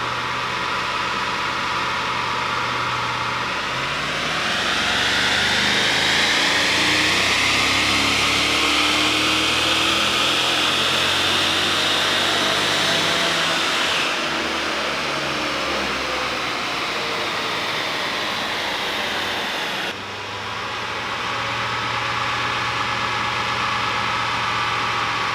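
Holden VF SS with a 6-litre L77 LS V8, fitted with exhaust and OTR intake, revving hard on a dyno: a loud sustained roar that climbs in pitch, drops suddenly, then settles back to a steady drone.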